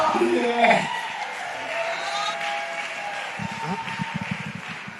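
An audience at a talk cheers and claps before the speaker begins, a busy mix of applause, whoops and shouts that swells early then settles into scattered clapping and murmur.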